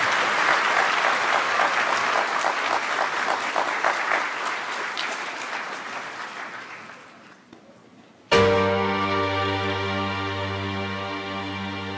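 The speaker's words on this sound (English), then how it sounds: "Please give a warm round of applause to Narangwa and Hungerzul." Sustained applause from an audience after a stage performance, dense and steady for about eight seconds, fading before it cuts to a music cue.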